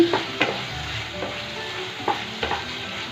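Fried potato and brinjal pieces being stirred into a sizzling spice masala for a pabda fish curry, a steady loud frying hiss broken by a few spatula scrapes and knocks against the pan.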